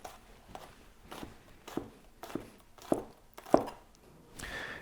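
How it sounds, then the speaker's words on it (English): Knife slicing garlic cloves thin on a cutting board for a stir fry, a series of light, evenly spaced chopping taps that grow slightly sharper, heard close up without talk. "And a couple of garlic cloves. I'm just going to slice these very thin."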